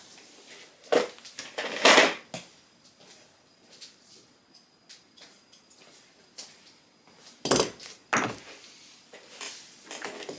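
A metal clamp being fitted onto a knife sharpening setup for vintage Vortex shears, with scattered clanks and knocks and two louder clusters of metallic rattling, close by and without talk.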